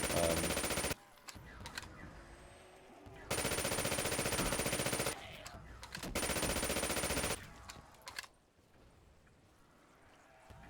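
A PPSh submachine gun fires in Call of Duty Zombies on the Outpost map in three long, loud automatic bursts separated by short pauses, then quieter game ambience follows.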